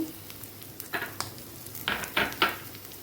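Garlic, cinnamon and cloves frying in a pan, with a low sizzle broken by several short scraping stirs and clinks of a spoon against the pan.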